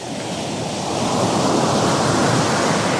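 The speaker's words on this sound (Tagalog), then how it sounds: "Lalaki ng alon." Continuous roar of big ocean waves breaking nearby at Baler, a dense hiss of surf that swells slightly louder after the first second.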